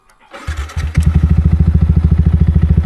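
A Yamaha XSR 155 motorcycle on a mountain trail starts up close by, cranking briefly before catching into a loud, rhythmic, pulsing single-cylinder idle that chugs steadily to the end.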